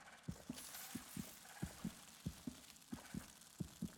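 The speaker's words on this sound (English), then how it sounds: "That sounds like a heartbeat." A heartbeat in the video game Hollow Knight thumps in steady lub-dub pairs, about eight double beats in four seconds, low and muffled over a soft ambient drone.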